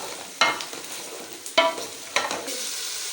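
Potatoes stir-frying in oil for a bhindi aloo sabzi, a close sizzle with three distinct scraping stirs of a spoon through the pan.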